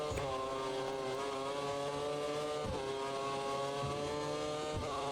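Video game V8 Formula 1 cars race at the Chinese Grand Prix, a loud, close, high-pitched engine wail rising and falling through gear changes and revs, continuous with no talking.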